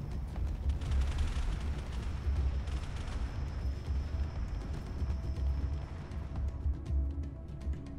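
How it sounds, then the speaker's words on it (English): Heavy missiles slam into a ship in the Space Engineers space game, a steady rumbling barrage of booming blasts and crackling bursts rolling on without pause, fairly quiet overall. "Getting impacted by those heavy missiles."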